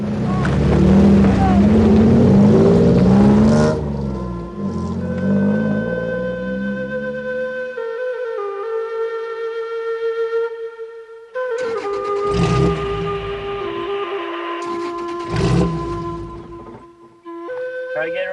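A Baja 1000 race car engine, with a suspected clogged or worn part, roars loudly, then drops to a ragged idle that sputters and fades before catching again in uneven bursts, close to the microphone with wind noise.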